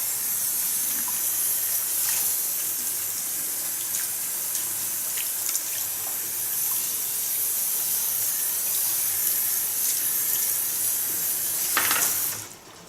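Water sprays steadily from the nozzle at a salon sink, rinsing shampoo out of a client's hair with a close, constant hissing wash that cuts off at the very end.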